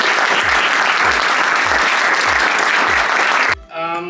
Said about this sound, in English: let's give you a nice applause